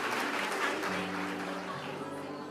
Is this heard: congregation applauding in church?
yes